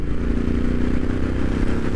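A Royal Enfield Interceptor 650 motorcycle engine held near 4,000 rpm while cruising, a steady, loud, close drone with an even exhaust pulse and no voices.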